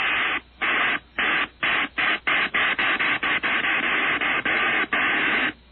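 A voice imitates a train over a narrow, radio-like line, with rhythmic breathy chuffs that start spaced out and then speed up, steady and fairly loud.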